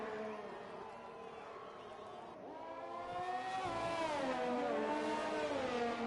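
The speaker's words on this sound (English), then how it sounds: "Tyne absolutely revving that car to the limit in 7th gear." A racing car engine revs to the limit in 7th gear in an H.O.R series race at Japan, a rising, straining whine that climbs in pitch and grows louder as the car pulls, with no talk over it.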